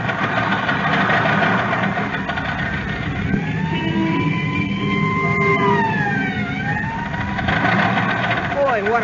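An old car engine roars steadily under dialogue in a radio drama as the driver pushes the buggy for more speed, with a wailing tone rising and falling through the middle.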